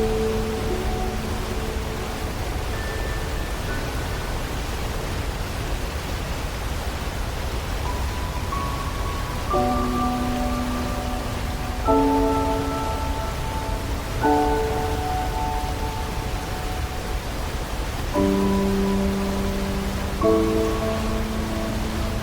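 Steady rain pours down on a mountainside where the runoff gathers into a stream, giving a dense, even hiss throughout, while music with sustained tones plays over it.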